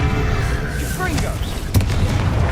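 A Confringo explosion spell in Hogwarts Legacy bursts with a single heavy boom and a short rumbling tail, following a shouted spell cast and sitting under a dense game soundscape.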